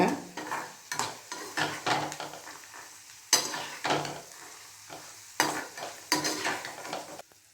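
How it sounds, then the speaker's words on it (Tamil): Peanuts dry-roast in a pan and are stirred repeatedly, each pass bringing a rhythmic burst of rattling, scraping nuts against metal, with quieter pauses between strokes. "நல்லா முறுமுறுன்னு வறுத்துட்டேன் வேர்க்கடலையை"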